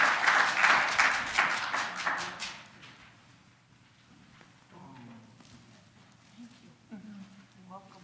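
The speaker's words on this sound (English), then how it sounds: "Please give her a round of applause." A congregation applauds: a burst of clapping that is fairly loud at first, then thins and fades out after a couple of seconds, leaving quiet room tone and a few spoken words.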